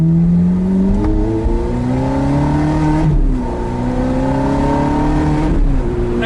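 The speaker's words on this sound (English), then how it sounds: "This car's quite noisy, obviously, with the roof down." Ferrari F430 engine heard from inside with the roof down while driving on a damp road, a loud, steady drone with smooth revs rising and dropping through gear changes, filling the whole stretch with no talk.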